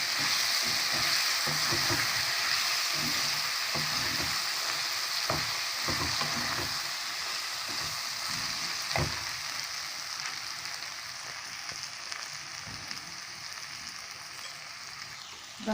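Paneer and cauliflower curry frying and being stirred in a pan, a steady close sizzle with repeated scraping stir strokes throughout, no talk.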